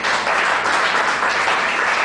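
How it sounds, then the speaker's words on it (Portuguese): An evangelical church congregation claps together in a steady, dense wash of applause, close and even with no voices over it. "Aplauda o Senhor em nome de Jesus"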